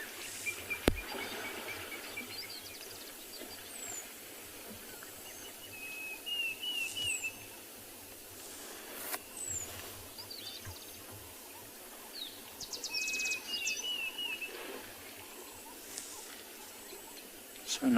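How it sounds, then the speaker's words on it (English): A Jacobin cuckoo calls from the bush near a waterhole at sunrise, its thin whistled notes coming in two short bursts against a quiet background of soft insect hum. "you can hear the Jacobin cuckoo. It's calling now."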